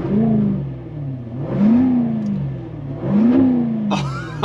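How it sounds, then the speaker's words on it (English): A 2023 Jaguar F-Type R Coupe engine revs up twice with sport exhaust on, a throaty exhaust note, each rev swelling and falling back, then a short whine at the end. "Turn this on and you can hear it. Things just get a little throatier."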